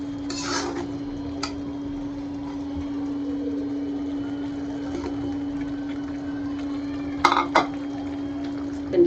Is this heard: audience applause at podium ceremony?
no